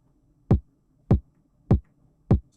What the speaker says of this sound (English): A super thin top end kick.